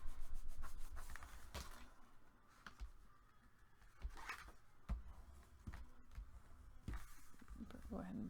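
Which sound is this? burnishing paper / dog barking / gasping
burnishing paper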